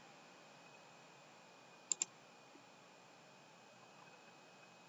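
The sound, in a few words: computer mouse clicking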